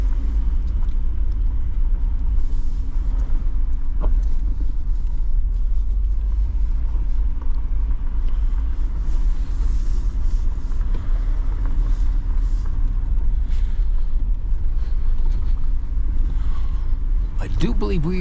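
Jeep Wrangler Final Edition crawling off-road in 4 high in a low gear, giving a steady, loud low engine rumble with wind buffeting throughout and a brief squeak near the end.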